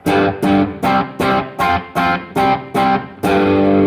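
A distorted electric guitar chord is strummed in a rhythmic chugging pattern, eight short stabs followed by a longer ringing hit, loud and close with no talking.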